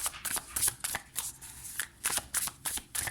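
Playing cards being shuffled by hand to draw the last card, a rapid run of crisp riffling flutters in quick bursts, close and fairly loud, with no talk.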